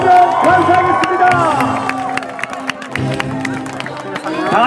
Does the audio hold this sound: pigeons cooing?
no